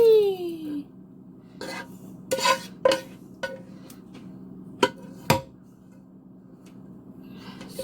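Spoon scraping baked beans out of a pan, several short scrapes and knocks scattered among quiet gaps, fairly soft and close.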